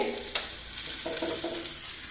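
Onions sizzle and crackle in a hot pan, with a few stirring scrapes over the short, steady frying hiss.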